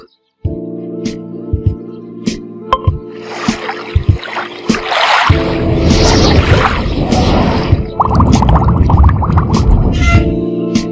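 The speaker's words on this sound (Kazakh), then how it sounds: "Желкенді қайық." Soft music plays, then a steady rush of water sweeps past a moving boat and continues to the end, fairly loud and close.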